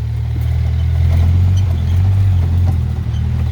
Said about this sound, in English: forestry mulchers just drive through this